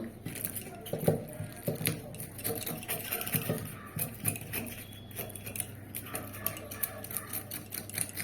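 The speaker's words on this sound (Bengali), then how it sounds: "তার আগে আমি এই চামচ দিয়ে আঁশ ছাড়িয়ে নেব" A metal spoon scrapes scales off a koi fish in quick, repeated rasping strokes, close and clear over faint background noise, with no speech.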